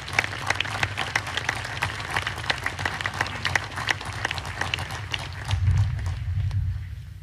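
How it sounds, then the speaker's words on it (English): Audience applause for faculty award recipients at an Army War College graduation ceremony, a steady dense wash of many hands clapping over a low rumbling room hum, swelling briefly near the end before fading. "please join me in a round of applause for our faculty award recipients"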